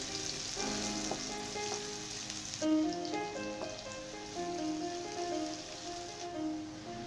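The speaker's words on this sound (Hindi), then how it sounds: "हल्का सा इसे सौटे करेंगे।" Chopped medium onion sautéing in a pan for khichdi, a steady close sizzle with light crackles and occasional utensil clinks, with no one talking.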